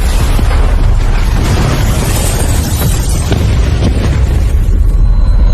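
A film explosion roars as a loud, sustained blast with a dense rumbling boom that fills the whole stretch, without speech.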